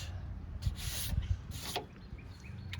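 Abrasive scuffing on a Kia car door panel before repainting: a few short, soft rubbing bursts against steady low background hum, fairly close and moderate in level, with no talk.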